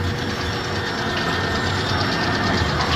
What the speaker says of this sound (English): Our motor has fired up.